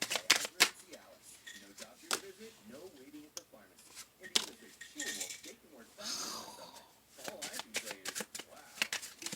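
Tarot cards are shuffled and drawn with soft, close riffling and flicking sounds in irregular bursts, quiet throughout.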